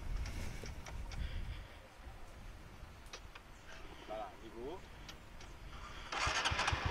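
A motorcycle engine cranks and catches at low volume, runs roughly for a few seconds and then dies, with a person talking over it and a louder burst near the end.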